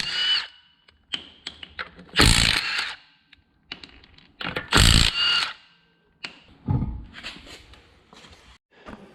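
A power tool removing the wheel from a Subaru 2.5RS fires in several short, loud, whirring bursts separated by quiet gaps and small clanks.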